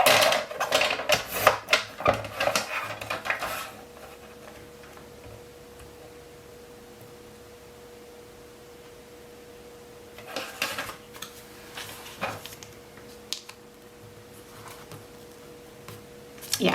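Scissors trim printed stickers for an A6 Hobonichi journal, with a quick run of small crisp snips and clicks up close, then quiet, then a few more scattered cuts.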